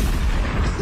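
A firecracker bursts in a brief, loud, booming blast that fills the whole moment, with no voices.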